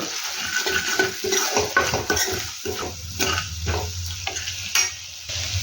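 Masala with spices frying in a pan for an aloo fry, with steady sizzling, clinks and scrapes of a spoon against the pan, and stirring sounds throughout, close and fairly loud, without talk.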